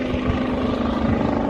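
A rescue helicopter arrives at a New Zealand racetrack after a karting incident, its rotor and engine drone loud and steady with a rhythmic low thudding, no voices over it.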